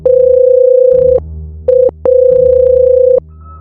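A telephone call sound effect plays as loud, steady electronic tones: a long beep, a short one, then another long one, with a clean, synthetic buzz and no voices.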